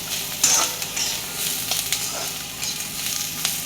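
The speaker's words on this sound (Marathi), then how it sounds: "चटचट चटचट आवाज आला पाहिजे" Onion and masala crackling as they fry in oil for a spicy bitter gourd curry: a dense, continuous sizzle with small pops and spatula scrapes rising above it, close and alone, with no talking.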